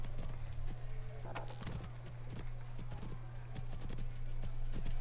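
Faint, steady clip-clop of horse hooves in the riding video game Riding Club Championships, continuous over a constant low hum with no talking.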